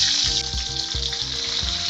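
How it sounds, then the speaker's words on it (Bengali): Brinjal pieces sizzle in hot oil, a loud, close, continuous hiss with a low rhythmic hum underneath and no speech. "নাড়িয়ে চাড়িয়ে ভালো করে লাল লাল করে ভেজে নিতে হবে বেগুনগুলো।"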